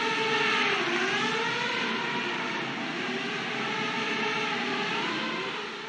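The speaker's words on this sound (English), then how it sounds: "That's the sound of the Racer AI autonomous aircraft, a sleek X-shaped drone." An autonomous X-shaped Racer AI drone with four propellers flies overhead, a steady loud whine with slowly wavering pitch that fades slightly at the end.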